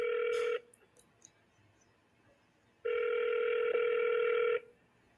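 An outgoing phone call rings back while being transferred, two long electronic tones separated by a pause of about two seconds, clear and close.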